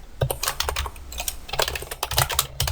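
Fingers typing code on a computer keyboard, with rapid close key clicks in uneven bursts and short pauses between them.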